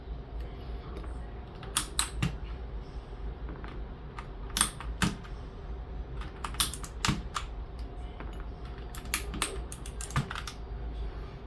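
Sharp plastic clicks and snaps as a keycap puller pries keycaps off an NZXT Function MiniTKL mechanical keyboard, coming in irregular clusters close by over a quiet background.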